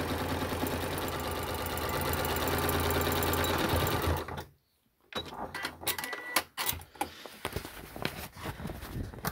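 A sewing machine stitches a handbag panel with a loud, fast, steady mechanical chatter that stops abruptly partway through, followed by scattered clicks and handling noises.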